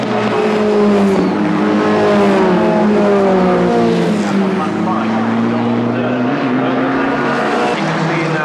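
Sports 2000 race cars of the 1998 SRCC pilot series lapping a circuit, engines droning loud and steady with rising and falling pitch throughout, a commentator talking over them.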